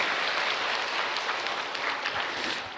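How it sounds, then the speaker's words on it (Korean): A church congregation at a revival service applauds in a steady, dense wash of clapping from many hands, continuous and fairly near, ending with a sharper burst. "이런 때 박수 쳐도 돼요."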